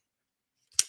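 Scissors make a single quick snip through green paper after near silence, a short, crisp, close cut that fades fast.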